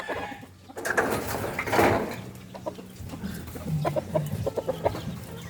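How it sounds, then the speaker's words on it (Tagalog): A fighting rooster clucks repeatedly at close range in a backyard, short bursts of clucks in a loose rhythm under light rain and other background noise. "May manok pa pala dito si Mang Ronnie. Panabong."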